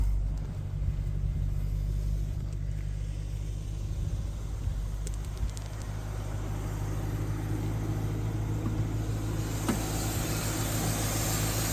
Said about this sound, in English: Started up there. I already kind of got it warmed up a little bit.